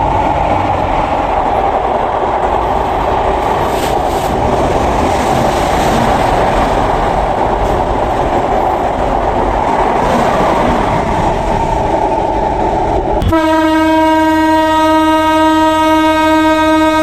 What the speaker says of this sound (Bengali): রেল স্টেশনে বেনাপোল এক্সপ্রেস রাত্রের সময় 8:27 ছেড়ে গেল